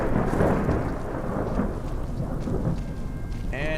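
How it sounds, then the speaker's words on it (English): Steady heavy rain with rolling thunder from a storm in Skyrim, a dense continuous wash of sound without a break. "And it's raining."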